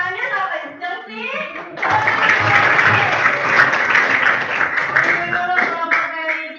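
Voices speak briefly, then a classroom group bursts into sustained, dense applause that carries on loudly to the end, with some talk mixed underneath.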